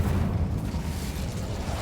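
An Incendio fire spell going off in a video game: a loud, dense, rumbling whoosh of flame that holds steady for about two seconds, with a sharper burst at the end and no talk.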